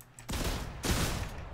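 Fortnite shotgun blasts boom twice in quick succession, loud and close, each leaving a long rough echo with no talk.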